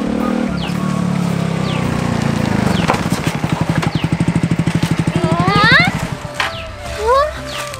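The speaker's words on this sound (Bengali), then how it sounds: "এত সুন্দর বাইক, এত সুন্দর বাইক তুই কখন কিনলি?" A motorcycle engine idles with a steady throbbing pulse, loudest in the middle stretch, while people talk over it and music plays along.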